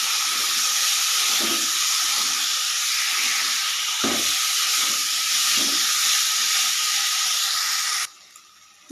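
Boiled potatoes and chopped tomatoes fry in spices in a pan with little oil, giving a loud, continuous sizzle with soft stirring scrapes, until the hiss cuts off abruptly near the end.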